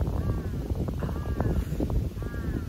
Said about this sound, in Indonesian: nggak fokus aku dengerin gagak terus anginnya gede gitu guys